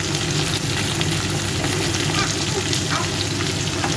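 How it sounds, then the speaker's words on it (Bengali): Ginger and vegetables frying in a pan, a dense continuous sizzle with crackling, loud and close throughout, with light stirring scrapes and no voices. "আদাটা ভালো মতো আমার এটা ভাজা হয়ে গেল"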